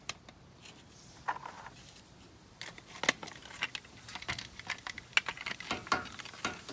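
Boat trailer light wires being cut, a series of small, sharp snips and clicks close by, irregular and fairly quiet over faint background noise.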